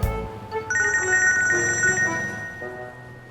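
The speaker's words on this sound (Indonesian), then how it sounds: "Ji, tuh HP bunyi." A mobile phone ringtone plays close and clear, a bright electronic melody of layered beeping notes starting abruptly and fading toward the end, with no voices over it.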